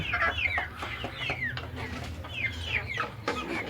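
Black and white spotted chickens cluck and squawk close by in a noisy coop, quick rising and falling calls overlapping with no talking.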